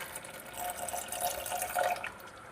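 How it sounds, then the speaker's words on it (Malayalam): First coconut milk poured into a simmering Kerala-style potato stew, a soft steady liquid trickle and splash running continuously at close range with no talking. "1ാം പാൽ ചേർത്ത് കൊടുക്കുകയാണ്."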